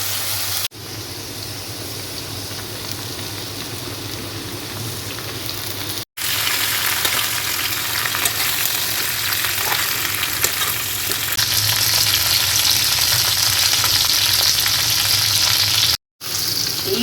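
Potatoes with onion and chilli sizzle and fry in a pan, a steady close crackling hiss that runs on unbroken, with no voices over it.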